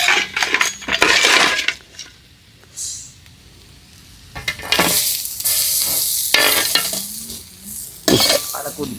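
Crab frying in a hot pan while being stirred, a loud close sizzle broken by scraping stirs and clinks of the utensil against the pan, with a quieter pause in the middle before the sizzling resumes.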